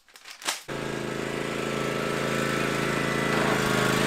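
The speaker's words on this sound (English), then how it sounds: "This dude is driving a lawnmower over there?" A riding lawn mower's engine drones steadily at a distance after a brief knock, holding an even, continuous hum with no voices over it.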